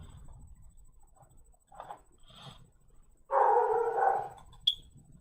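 A dog barks once in a short, loud burst at mid-distance, preceded by a few fainter yips and whimpers against a quiet room background with a steady faint high whine.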